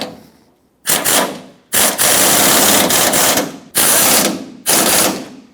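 A ratchet tightens tailgate bolts on a 2003-2009 Dodge Ram 2500 HD, with loud, close rasping clicks in four bursts of varying length separated by brief pauses.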